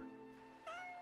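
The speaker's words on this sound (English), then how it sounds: "There's a little kitty there that's sleeping." A cat in the video game Summer Paws meows, with a faint tonal earlier call followed by a single clear, rising-then-falling meow near the end, close and quiet.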